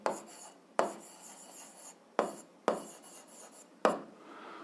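Pen strokes scratching across paper as an algebra word problem is written out by hand, coming in five quick bursts that each start sharply and trail off, close to the microphone with no talking.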